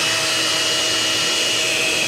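A hair dryer runs off an ALLPOWERS S2000 portable power station, giving a steady, loud, close airy whoosh with a faint motor whine, unbroken throughout.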